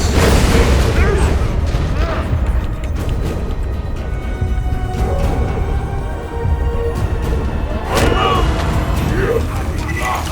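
Fast rockets in Borderlands 2 burst in a continuous barrage of loud booms and pops, densely layered with no clear pauses, while a voice talks over parts of the chaos.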